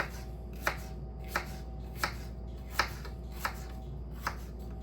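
A knife slicing apple pieces on a cutting board for apple turnovers, six crisp chops spaced roughly evenly, fairly faint and heard alone.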